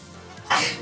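A single short, close sneeze bursting out abruptly after a quiet moment, loud and breathy, then fading quickly.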